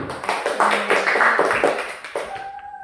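Students clapping hands together in a classroom, a quick burst of close, fairly loud claps lasting about two seconds before trailing off.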